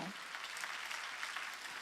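A church congregation claps hands during a sermon, a brisk, fairly quiet wash of many hands clapping together, steady and without voices.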